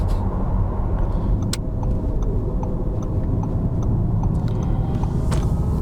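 A 925 hp car cruising at highway speed, with a steady, loud broadband road and engine roar that holds constant throughout, plus a few faint clicks and rattles inside the cabin.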